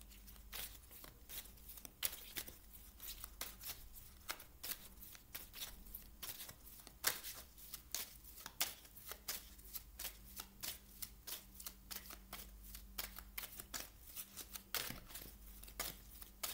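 Tarot cards being shuffled, a steady run of crisp riffling and slapping card sounds repeated for several seconds, close and clear with no voices.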